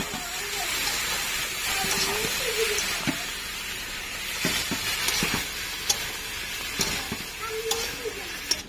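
Prawns lightly frying and being stirred in a pan produce a continuous close sizzle with scattered crackles and scraping, while a person talks over it.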